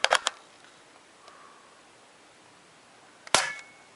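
Umarex HDP50 compact air pistol firing 0.20 gram BBs: sharp, close, dry cracks, a quick cluster of two or three at the start, then a single louder shot after a few seconds of near silence.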